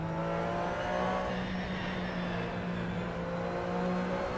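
A racing car engine in a sim racing video game hums at a steady high pitch with a sustained whine, held fairly constant and moderately quiet, heard alone throughout.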